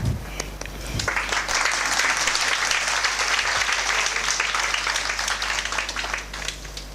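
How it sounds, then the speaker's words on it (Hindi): An audience claps in a hall. The applause is loud and sustained with many hands and dense overlapping claps, close and steady before it tapers slightly toward the end. "एक दो हाथों ने ताली बजाई।"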